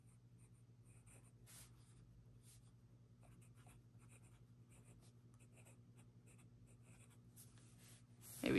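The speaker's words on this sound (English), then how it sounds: "So let me write with my favorite one first" Fountain pen nib scratching across paper in quiet, intermittent strokes, close and soft over a steady low background hum, with a louder knock at the very end.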